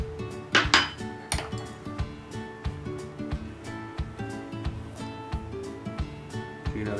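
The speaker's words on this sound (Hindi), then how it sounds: "चीनी डाल के चला लेंगे" A metal spoon clinks repeatedly against a pot while sugar is stirred into water for a sugar syrup, giving rhythmic, fairly close scraping taps, a few sharper clanks near the start.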